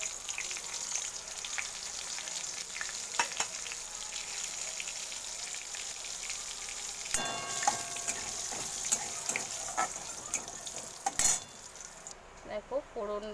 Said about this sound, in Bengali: আমি ফোড়ন হিসাবে নিয়েছি তেজপাতা, সাদা জিরে আর হচ্ছে শুকনো লঙ্কা।